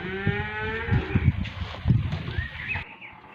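Calves lowing repeatedly while being led and watered from buckets at a livestock farm, several moos overlapping at close range with animal shuffling and clatter.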